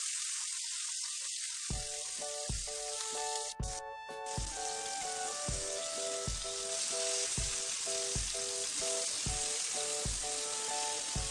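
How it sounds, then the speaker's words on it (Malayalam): Mackerel sizzles steadily in a frying pan over medium flame for Kerala-style pollichathu, a loud continuous crackle with a short rhythmic run of regular clicks and scrapes throughout, no voices. "മീഡിയം ഫ്ലെയിമിൽ വെച്ചിട്ട് ഫ്രൈ ചെയ്തെടുത്താൽ മതി."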